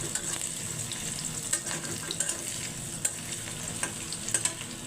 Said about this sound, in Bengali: এখন রসুন পেঁয়াজ দিয়ে বাগার দেব।